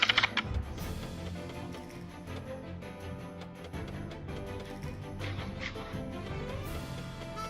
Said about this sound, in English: Yes, it does make my clickety-clack sound. The cardboard rubs together.